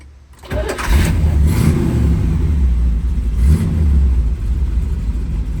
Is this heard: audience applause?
no